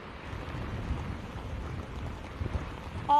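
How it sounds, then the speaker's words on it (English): Strong wind from Cyclone Fengal in Tamil Nadu roars steadily against the microphone in a dense low rumble, with gusty buffeting throughout and a brief tonal squeal near the end. "it is definitely extremely windy"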